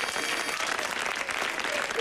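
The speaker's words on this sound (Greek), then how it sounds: "Ένα χειροκρότημα για τη Σπυριδούλα και για τον Σωτήρη." Studio audience applause on a Greek TV show premiere, a dense, steady wash of clapping from a crowd, moderately loud and continuous with faint voices mixed in.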